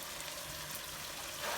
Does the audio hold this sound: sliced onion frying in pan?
yes